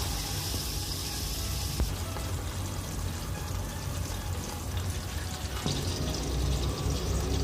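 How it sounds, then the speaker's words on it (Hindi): Oil poured into a cooking pot while making muli bhujiya, a continuous close hiss of steady pouring lasting several seconds with no talking. "इसके अंदर हमने थोड़ा सा ऑयल डाला"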